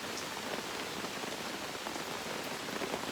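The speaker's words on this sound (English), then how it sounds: "That noise you hear is rain, it's not wind." Heavy rain pours steadily onto a camping tent during a thunderstorm, a dense, continuous hiss of drops drumming close on the fabric with no talk.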